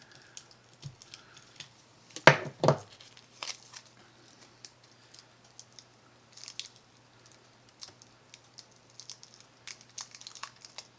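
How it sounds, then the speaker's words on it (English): A knife cuts into the plastic packaging of a SanDisk microSD card in a few sharp crunching, crinkling strokes, then quiet scattered clicks and rustles of handling, faint and close. "Let's use that knife. I'm gonna just cut here."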